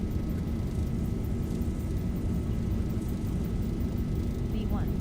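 Steady, loud engine roar of an airliner rolling down the runway for takeoff in a flight simulator, a constant drone throughout with a faint chirp near the end, while a pilot talks over it.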